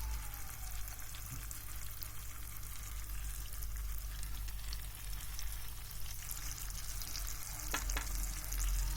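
Black Sea anchovies fry in a pan with a steady, soft crackling sizzle and occasional stirring noises, heard close and without speech.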